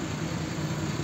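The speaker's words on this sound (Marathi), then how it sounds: "गाड्यांचा वगैरे आवाज येत असेल." Steady low rumble of traffic from vehicles passing near a house on a cloudy morning, a continuous distant engine drone with no distinct individual passes and no talking.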